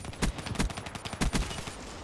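Gunfire in the video game Black Ops 3: several loud, close shots in two quick bursts of rapid reports, with a brief pause between them.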